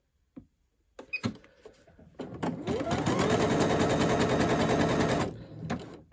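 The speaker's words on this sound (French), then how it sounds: "Et je vais faire un point zigzag." Sewing machine running a zigzag stitch while sewing men's underwear fabric, a few clicks first, then a loud rapid mechanical chatter for about three seconds that stops with more handling clicks.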